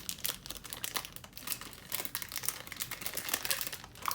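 Packing tape being peeled and torn while unboxing an RS4M: a steady stream of close crinkling and ripping of tape and plastic wrap that runs without a break for several seconds.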